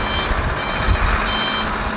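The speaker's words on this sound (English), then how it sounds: "Now, of course, they've got to have the truck go by." A truck passes at a construction site in Guyana, a steady run of loud reversing beeps over a low, rumbling engine close by.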